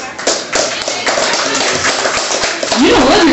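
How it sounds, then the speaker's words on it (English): Audience applause at a comedy show in a martini bar: a steady patter of clapping hands, fairly close, with talk mixed in. "I just asked you to clap for you."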